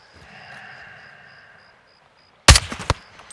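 Sniper rifle shots in the video game Call of Duty: Modern Warfare II, with a sharp loud report and short echoing tail that break sudden silence after quiet ambience.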